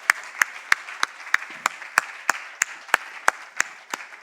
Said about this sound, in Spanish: Denle un aplauso al Señor, claro que sí.